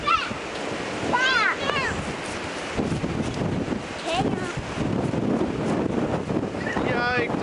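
Strong wind blasts outdoors as steady loud rumbling buffet across the microphone, with excited voices and brief exclamations breaking through over the gusts.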